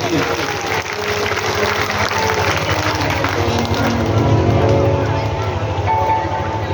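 Loud, dense clapping from the crowd at a Bhagavat Katha festival in Jyoti Bihar. The applause is sustained and fills the space, with music or voices faintly mixed in.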